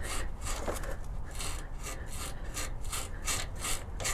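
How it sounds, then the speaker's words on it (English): A Harbor Freight hose dislodger tool wiggles a hose on a Lexus GX460 during a transmission cooler install, giving a steady close rasping, ratcheting scrape with quick repeated strokes and no talking. "I can grab a hold of the hose and wiggle with it."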